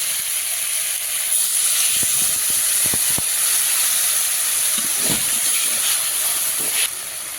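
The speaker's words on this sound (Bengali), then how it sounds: "এবার বসানোর জন্য একটু জল দিয়ে দেবো শুধু আলু না আলু আর কচু একসঙ্গে আছে" Water poured into a hot pan of potatoes and taro gives a loud, steady steamy hiss that fills the whole stretch, with a few sharp pops and crackles scattered through it.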